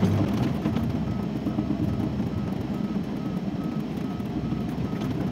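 A dump truck's engine labors loudly and continuously as it tries to climb a rough road freshly patched with stones, with faint reversing beeps sounding repeatedly through the rumble.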